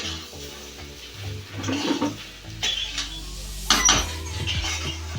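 Fried pumpkin and potato being stirred with rice, lentils and spices for khichuri in a pot, with scattered scraping and clinking of a spoon against metal and a sharp clatter partway through, over low background hiss.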